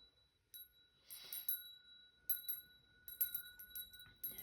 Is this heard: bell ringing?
yes